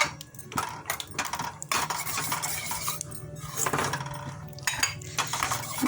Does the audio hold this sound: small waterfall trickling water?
no